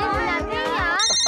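A phone ringtone plays loudly and close, a bright warbling electronic melody with a rapid repeating pattern, shifting to a tonal chime near the end.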